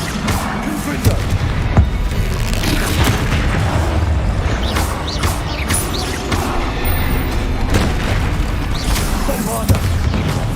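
Fiery Confringo spell blasts in Hogwarts Legacy go off again and again as loud booming bursts, packed into a dense, continuous wash of game combat noise, with a voice talking over the action.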